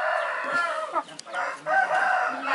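Five-month-old Thai chickens, a red-line rooster with large black-line hens, crow and cluck loudly at close range in a few drawn-out calls.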